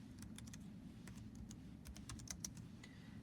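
Quiet clicking of keys on a computer keyboard, a run of irregular taps at close range over a low steady hum, no voices.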